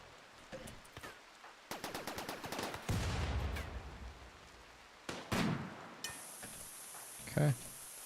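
Gunfire in the RimWorld colony-building game: several sharp, clustered bursts of shots at moderate loudness over a soft rainy hiss, with gaps between volleys and one heavier thump near the end.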